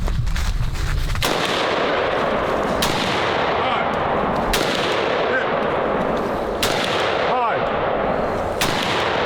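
Sharps Bros MB47 AK-47 rifle fires at an outdoor target range: a string of sharp, loud shots spaced a second or two apart over constant rumbling noise, with faint voices in the background.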